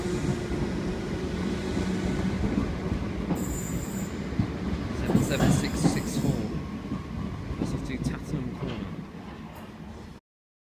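A Southern train rumbles loudly past close by, with metallic wheel squeals rising over the steady roar before the sound cuts off abruptly.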